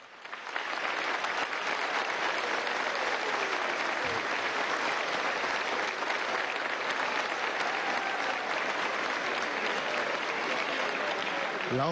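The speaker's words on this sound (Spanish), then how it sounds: "La ovación que ha recibido el presidente constitucional" Loud, sustained applause from a large crowd giving an ovation to the president at a Presidential Honor Guard and DGCIM promotion ceremony, steady and dense throughout with no pauses.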